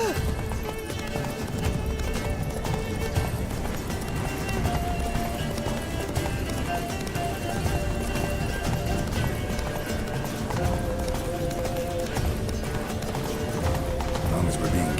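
Geralt's horse Roach galloping in The Witcher 3, a steady, driving clip-clop of hooves running continuously beneath a music score, with people talking over it.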